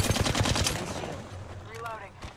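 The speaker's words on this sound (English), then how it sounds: "Turret right on you!" Rapid automatic turret gunfire in the Apex Legends video game, a loud close burst of regular shots that fades out, followed by a brief trailing in-game tone.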